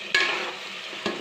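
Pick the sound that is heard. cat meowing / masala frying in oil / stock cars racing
masala frying in oil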